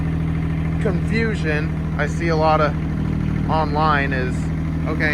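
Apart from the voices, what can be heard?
Kubota diesel mini excavator engine revving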